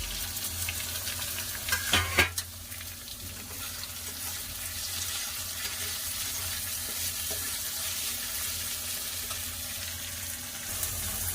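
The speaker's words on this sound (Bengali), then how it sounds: "এর মধ্যে আমি কেটে রাখা টমেটো দিয়ে দিলাম।" Chopped tomatoes dropped into oil with ginger and garlic, a burst of loud crackling and clattering at first that settles into a steady, even sizzle.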